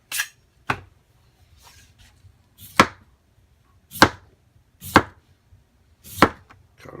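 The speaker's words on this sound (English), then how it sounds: "I'm going to move the foil out of the way for a second while I slice up" A knife slices through a potato into roughly quarter-inch rounds for a pizza-stuffed chicken meal, giving six crisp, close chops at an uneven pace with quiet gaps between them.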